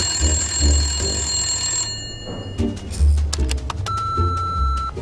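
A telephone rings while someone calls the police chief, giving short repeated electronic ring tones over a low background hum in a Swedish children's Christmas series.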